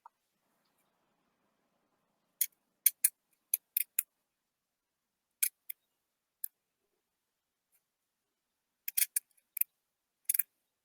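Scissors cutting a folded gray washcloth into a figure 8 shape, a string of crisp, close snips in small clusters separated by quiet pauses.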